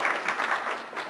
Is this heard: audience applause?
yes